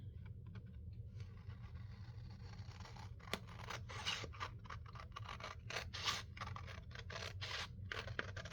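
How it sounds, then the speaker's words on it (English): Scissors trimming white paper, a series of quiet close snips and crisp rustles that grow busier in the second half, with faint background hum. "let me trim off this white"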